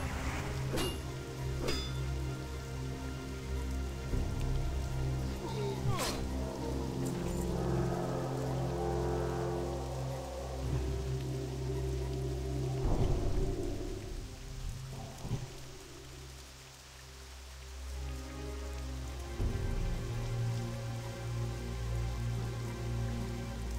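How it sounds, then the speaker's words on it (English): Steady rainfall in World of Warcraft Classic, a continuous hiss of drops falling for the whole stretch, with soft low rumbles and occasional sharper cracks, all at a moderate, even level. "it started to rain on our parade here because the visibility when it rains actually goes down and it is harder to see"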